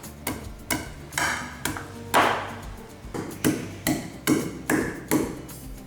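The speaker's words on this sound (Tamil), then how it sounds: "ரெண்டு கிராம்பு போட்டிருக்கேன் இஞ்சி போட்டுக்கலாம் லேசாக தட்டிக்கலாம்" Ginger, cardamom and cloves are pounded for tea, making about a dozen sharp, ringing strikes at a steady, slightly uneven rhythm. The strikes are close and clear, with no talking.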